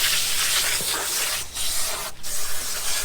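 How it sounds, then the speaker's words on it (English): Continuous hissing spray of water from a hose, steady and close, washing guts out of a 280 lb swordfish, with two brief interruptions. "We'll spray the brush out and we'll spray this out here"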